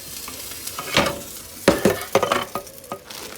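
Seasoning for crawfish étouffée cooks in a pan, with a soft sizzle and close, irregular spoon scrapes and knocks against the pan; no talking.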